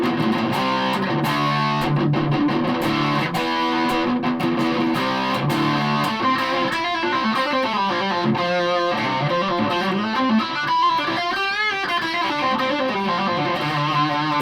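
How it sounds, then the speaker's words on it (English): Hohner Professional SR Devil electric guitar played through a distortion pedal, a loud, continuous, saturated sustain of chords and note runs with no pauses, close and upfront. "this is the sort of guitar that you're going to have distortion on"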